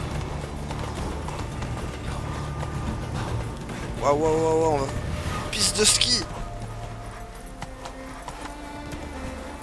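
Horse galloping in The Witcher 3, a steady clip-clop of hooves running through the scene while someone talks and exclaims excitedly over it.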